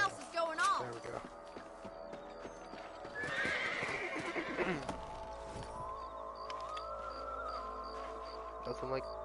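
Horses in the video game Red Dead Redemption clip-clop at a steady gait and let out whinnies and neighs, with hoofbeats running throughout over a busy in-game background and some voice nearby.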